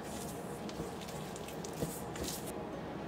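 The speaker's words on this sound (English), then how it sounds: "Then we're going to just mix this up again, just like before." Sourdough starter is stirred with water in a container, giving quiet, wet squishing and soft patting sounds in an irregular rhythm, faint and close with no talking.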